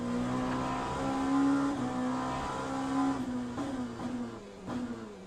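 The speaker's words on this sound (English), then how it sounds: "And I'm hitting the rev limiter." A race car engine in the Le Mans Ultimate racing game holds steady high revs near the limiter, a loud, continuous harmonic drone with slight stuttering dips toward the end, and no voices.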